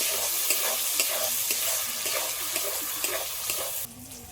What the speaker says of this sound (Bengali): হালকা করে একটু জল দিয়ে দিচ্ছি এবার মশলাগুলো সব একসাথে একটু ভালো করে কষিয়ে নেব